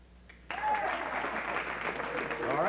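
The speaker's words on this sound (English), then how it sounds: "vote now by your applause for number 1" Studio audience at a late-night talk show breaks into sudden, loud, sustained clapping and cheering after a brief quiet moment, applauding to vote for a rumor.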